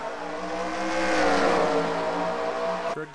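Race cars roar off at the green flag start at Watkins Glen in an NCCRS race, engines swelling together and climbing in pitch as they accelerate, loud and close, with a brief drop near the end.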